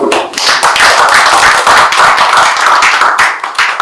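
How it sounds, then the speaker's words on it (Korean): A crowd applauds at a support society's regular gathering and exhibition opening as a soprano is welcomed, with dense, continuous clapping sustained throughout and no voices. "네, 큰 박수."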